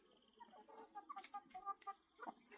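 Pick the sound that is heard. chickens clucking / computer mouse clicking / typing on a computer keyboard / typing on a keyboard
chickens clucking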